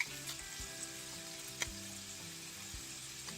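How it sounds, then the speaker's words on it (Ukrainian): Food fries in a pan with a quiet, steady sizzle and crackle, broken by a few faint clicks and taps, and no voices. "Смажиться"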